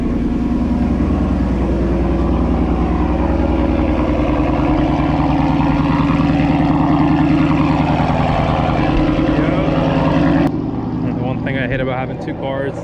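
A 2018 Whipple supercharged Mustang running on E85 idles loudly at cold start, a steady dense engine drone held close for about ten seconds before easing slightly, with a faint voice mixed in.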